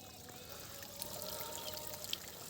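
Water gushing steadily from a running electric pump motor on a farm field in the early morning, a continuous close hiss of pouring flow with no one speaking.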